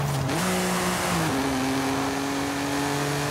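A car engine in Forza Horizon 5 revs and climbs through gear shifts, with a loud steady drone that steps up in pitch twice before holding high, heard alone.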